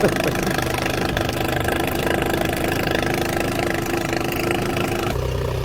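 A small petrol engine with an automatic choke idles steadily with a constant mechanical rumble and faint knocking, close by, then its tone drops and settles near the end.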